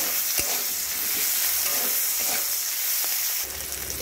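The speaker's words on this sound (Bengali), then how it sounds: "রসুন আর পেঁয়াজটা এই তেলের মধ্যে খুব ভালো করে ভেজে নেব।" Garlic and onion frying in oil with a pinch of salt, crackling in a steady close sizzle while a spoon scrapes and stirs the pan, a few sharp knocks against the metal along the way.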